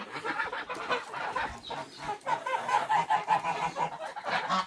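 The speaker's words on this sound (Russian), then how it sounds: "вот такие уже гуси" A flock of geese honks and cackles nearby, calls overlapping in a busy, continuous chorus.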